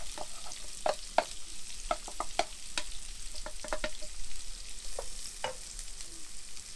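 Red and white onion frying in a pan, a steady close sizzle broken by scattered sharp clicks and scrapes of stirring, with no talking.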